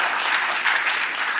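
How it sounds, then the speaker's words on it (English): A seated audience gives a steady round of applause for a speaker being introduced, dense and even clapping that fills the short moment at full strength. "please give a round of applause to Mr."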